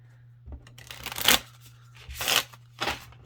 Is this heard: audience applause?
no